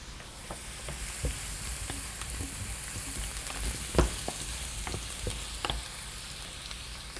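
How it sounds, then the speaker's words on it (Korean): Ingredients for a Galician-style octopus potato salad sauté in olive oil in a pan, giving off a steady close sizzle and crackle with frequent small pops and ticks throughout, alone and without talk. "이렇게 살짝 올리브유에 볶아주시고요"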